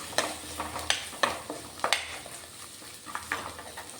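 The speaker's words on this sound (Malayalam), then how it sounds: "ഇതെല്ലാം കൂടെ ചേർത്ത് ഒന്ന് വഴറ്റിയെടുക്കണം" Green chillies and curry leaves being sautéed in a pan for a Kerala fish curry, with a spoon stirring and scraping in several distinct strokes over a soft, steady sizzle; no talking.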